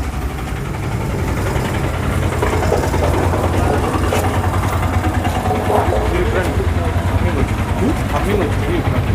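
A motorcycle engine idles steadily close by throughout, a continuous low rumble, while people talk over it at a Christmas gospel gathering in Chinravuru.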